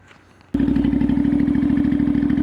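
A motorcycle engine catches after a jump start in cold weather: quiet background, then a sudden loud bark as it fires, settling into a steady close idle with rapid regular pulses.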